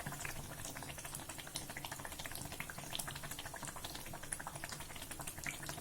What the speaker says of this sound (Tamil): கொதிக்குது நல்லா